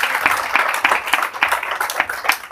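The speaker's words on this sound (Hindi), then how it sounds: "कितना बढ़िया प्रोडक्ट का तालियां बजाई थी लोगों ने" Audience applause at a direct selling company event, a steady wash of many hands clapping with irregular sharper claps standing out, fairly close and continuous with no talk.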